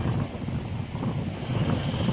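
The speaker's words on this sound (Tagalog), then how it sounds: "Ito na ang dagat." Sea waves wash onto the shore under steady wind buffeting the microphone, a constant close roar of surf and gusts with no voices.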